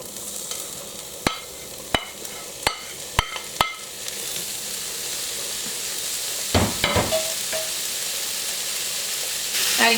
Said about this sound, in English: It's time to fry some mushrooms.